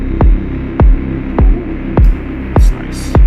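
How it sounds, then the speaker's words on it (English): A hissing, wind-like synth texture from ring modulation or flanger runs steadily in a deep techno track, with six heavy kick drum thumps pounding through it at an even pulse. "This kind of static wind kind of thing."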